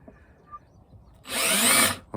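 A power drill on a widebeam narrowboat during a lithium battery installation bites in with one short, loud burst of under a second, close up, after near-quiet, followed by a brief tail.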